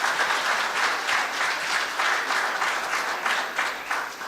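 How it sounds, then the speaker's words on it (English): Conference audience breaks into steady applause, a dense wash of many hands clapping at moderate volume with slight pulses in intensity, continuing without speech. "Please give them a very big round of applause."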